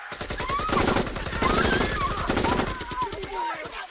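Gunfire sound effect in a Batman audio drama, dense rapid bursts of shots repeating throughout, mixed with shouting voices and dramatic action ambience.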